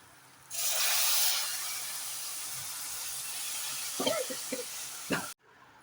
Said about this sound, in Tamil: இப்போ இதில் கொஞ்சம் தண்ணி ஊற்ற வேண்டியதா